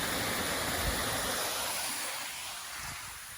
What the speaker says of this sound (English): a really pretty little punch bowl style drop into this pool